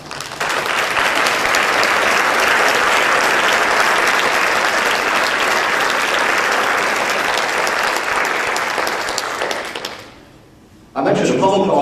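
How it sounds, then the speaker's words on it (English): Audience at a Hall of Fame induction ceremony applauds standing members, a dense, loud, steady wash of clapping lasting about ten seconds before cutting off; a brief quiet gap follows, then a voice begins. "let's give them a round of applause"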